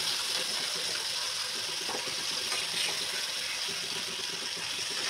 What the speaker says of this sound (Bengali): এই পাস্তাগুলোকে এরকম ছাঁকবে, ছেঁকে জল শুদ্ধই ঢেলে দেবে